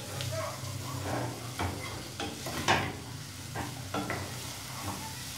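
Oil sizzles steadily in a pan as onions cook for pumpkin curry while a spoon stirs and scrapes now and then, close by and moderately quiet.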